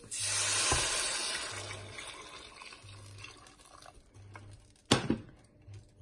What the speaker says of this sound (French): Là, je rajoute mon eau.